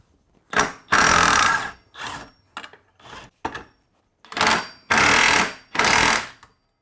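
An impact wrench hammers at tight castor rod bolts on a Toyota Celica RA23 during a front steering teardown, firing in several loud, close bursts of varying length separated by short pauses.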